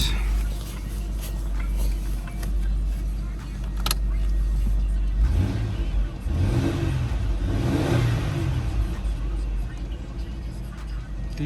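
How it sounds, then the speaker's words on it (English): A 2003 Ford Taurus wagon engine with 60,000 miles idles, then revs up several times in rising and falling surges, loud and close. "Give it a few revs."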